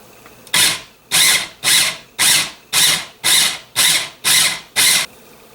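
Shrimp pulse-chopped in a food processor: nine loud, even whirring bursts of about half a second each with short pauses between, close up and without speech.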